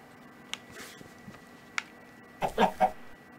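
A chicken in the video game Minecraft clucks in a short burst of three quick, fairly close notes near the end, after a few faint scattered clicks and taps.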